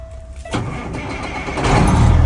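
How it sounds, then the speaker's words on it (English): A semi truck's diesel engine cranks over after a short electronic beep and catches, building into a loud, deep rumbling idle that swells toward the end, close and with no talking. "and then the truck will start"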